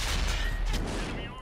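A STA-2 tank's main gun fires in World of Tanks on console, a single booming blast that rolls and fades over a second and a half, fairly quiet overall.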